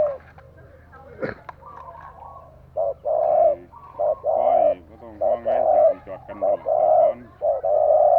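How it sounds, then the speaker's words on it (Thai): A decoy dove coos repeatedly in a steady rhythm of single 'kuk' notes, loud and close, with a brief click or knock early on and faint background hum. "กุกเดียวครับ เป็นนกกุกเดียว"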